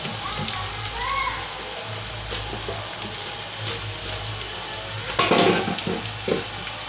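Chicken garelu deep-fry in hot oil with a steady, close bubbling sizzle that runs throughout and briefly swells into a louder crackle near the end.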